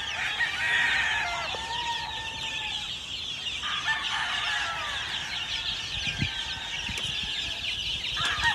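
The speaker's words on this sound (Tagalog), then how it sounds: "More than 400 chickens." A flock of chickens on a gamefarm of more than 400 birds clucks steadily while roosters crow repeatedly, loud and close, with wings flapping now and then in the background.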